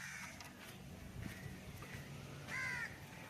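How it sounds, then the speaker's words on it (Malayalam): Crows caw at Kovalam beach in Kerala, several harsh calls scattered over steady outdoor background noise, with one louder, nearer caw standing out toward the end. "മലയാളത്തിൽ കാക്ക ധാരാളം ഇരിപ്പുണ്ട്, കണ്ടോളൂ"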